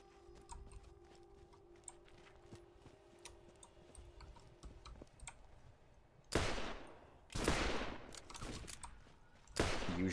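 A Borderlands gun fires in a few loud, sharp bursts near the end, each with a heavy blast and a decaying tail. Before that comes a quieter stretch of faint ticking and game ambience.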